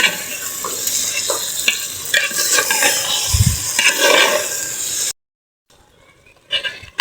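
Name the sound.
meat frying and being stirred in a pot for biryani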